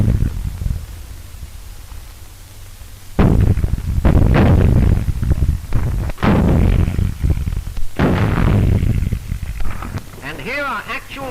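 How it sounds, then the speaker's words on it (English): Old-fashioned anti-aircraft guns fire during 1932 Shanghai fighting between Chinese and Japanese troops, heard as a series of loud, heavy booming bursts over a noisy old newsreel soundtrack, with a narrator talking. "Chinese troops advancing for the counterattack under the protection of their old-fashioned anti-aircraft guns which bark at enemy scout planes"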